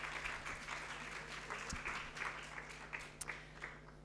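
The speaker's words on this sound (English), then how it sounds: "Give yourself a round of applause." Round of applause from an audience at a talk on emotion regulation in DBT, fairly faint and steady, with scattered individual claps standing out over a low hum.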